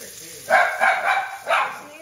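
A few sharp dog barks, three in quick succession then one more after a pause, moderately close, over a quiet room.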